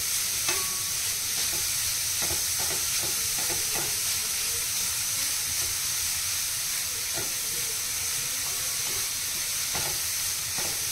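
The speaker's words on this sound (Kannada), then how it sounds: "ಈ ರೀತಿಯಾಗಿ ತುಪ್ಪದಲ್ಲಿ ಫ್ರೈ ಮಾಡ್ಕೊಂಡ್ರೆ ಆಯಿತು." Grated carrots for carrot halwa fry in ghee in a pan, a constant close hissing sizzle broken by repeated spatula scrapes and taps as they are stirred.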